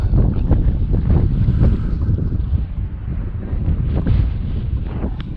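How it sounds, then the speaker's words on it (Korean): Strong wind buffets the microphone outdoors in a mountain setting near Canmore, Alberta, producing a loud, continuous low rumble with uneven gusts throughout and no clear talk. "지금 현재 바람이 많이 불기는 하는데"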